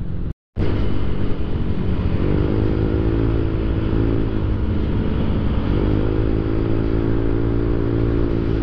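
Three Yamaha scooters, an NMAX and two Aerox, ride along a road in San Felipe, Zambales, their engines giving a steady, loud, close drone with rising and falling whine as they accelerate, after a brief cut at the start.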